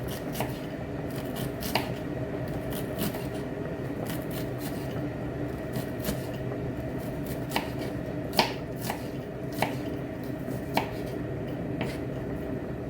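Onions being chopped into small pieces with a knife on a board, a steady run of close, crisp cuts with a few sharper knocks, no talking.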